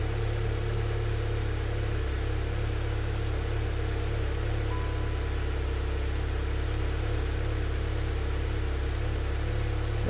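A cold Volkswagen MK7 Golf GTI engine idles steadily at close range, a low, even hum with a constant broadband hiss over it and no speech.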